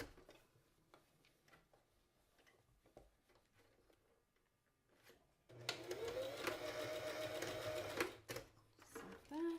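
A sewing machine runs a steady stitch on a tab for a child's newsboy hat, starting midway after a stretch of quiet handling noises and carrying on loud and continuous to the end.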